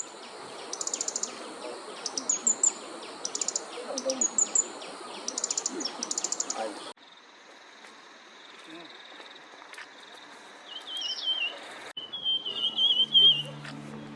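Bursts of high bird chirps and calls repeat over steady insect buzzing in the Eastern Himalayan forest of Neora Valley; the background shifts midway, with a few softer whistled calls near the end.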